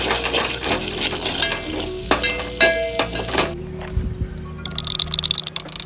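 Oil and butter sizzling in a pan at the start of butter chicken, a steady close crackling hiss with occasional clinks of a utensil stirring, softening toward the end.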